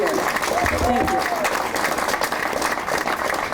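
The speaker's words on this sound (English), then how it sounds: "give a round of applause for the amazing students of the Dayton Public Schools and the coaches that are here" Audience applause for Dayton Public Schools students and coaches at the Welcome Stadium groundbreaking press conference, a steady, dense clapping that fills the whole stretch, with faint voices mixed in.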